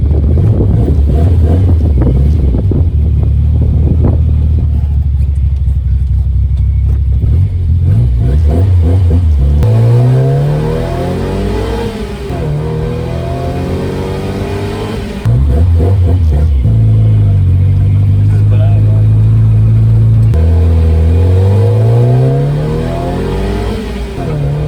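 A modified Nissan 1400 Champ bakkie's engine revs up and down through the gears while driving, loud and close, with rising pitch sweeps, shift breaks and steady wind buffeting throughout.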